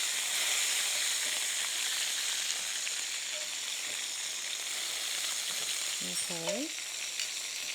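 Chicken pieces pan-frying for piccata in a very hot pan give a steady, close sizzle and crackle that runs the whole time, with one brief spoken word near the end.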